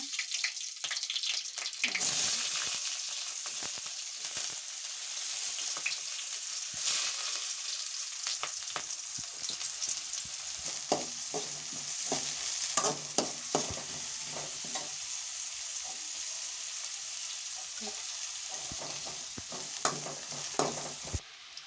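Mustard seeds and green chillies fry in hot oil for egg rice, crackling and sizzling steadily up close, with sharp popping bursts and stirring clatter throughout, no voices.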